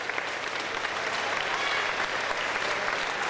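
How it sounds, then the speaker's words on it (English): An audience at an ICE FC mixed martial arts event applauds after a fight, a dense, steady wash of clapping that holds evenly for a few seconds with no voices over it. "Let's have one huge round of applause for these two young warriors."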